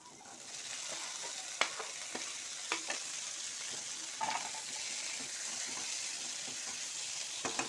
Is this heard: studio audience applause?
no